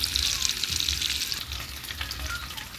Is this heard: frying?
yes